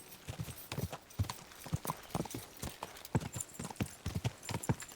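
A horse's hooves gallop along a road in the medieval video game Kingdom Come Deliverance 2. The clip-clop beats come quick and rhythmic, clear and close, with a few faint background sounds.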